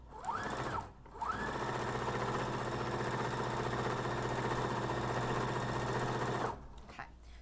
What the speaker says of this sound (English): then you're just going to run a stitch